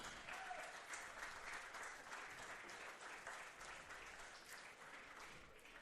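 Crowd applause at a college baseball game between Tampa and Florida Southern rolls on as a steady, distant wash of many hands clapping for about six seconds, fairly faint, with no speech on top.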